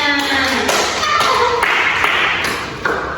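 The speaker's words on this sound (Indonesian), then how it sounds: "Beri tepuk tangan untuk kita semuanya" Junior high students in a classroom during an Islamic studies lesson on the Quran and Hadith clap briefly together, a short burst of close, uneven handclaps with bright taps and pings mixed in.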